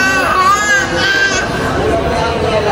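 A baby cries loudly and close by in a family setting, a sustained wavering wail that dominates while adults talk over and around it.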